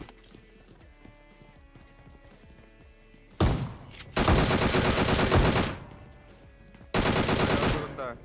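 Gunfire in the mobile game PUBG Mobile, with long, dense bursts of loud rapid shots separated by quieter stretches of game ambience, no speech.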